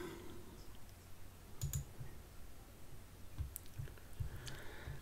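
Computer mouse clicks on a Mac desktop, a few sharp, quiet clicks scattered over a few seconds against a faint background hiss, with no talking.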